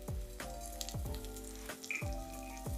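Garlic sizzling in oil while a wooden spoon stirs it around the pan, a soft continuous fry punctuated by regular knocking strokes roughly every half second, close and without voices.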